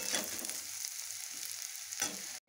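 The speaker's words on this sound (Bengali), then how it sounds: "এখানে আলু, গাজর, মূলো আর এইগুলো হচ্ছে কি ফুলকপির ডাঁটা ফেলে দেবো, তো সব একসঙ্গে এগুলো ভেজে নিচ্ছি।" Potato, carrot, radish and cauliflower stalks fry together in hot oil, giving a steady close sizzle with a brief louder burst near the end before it cuts off.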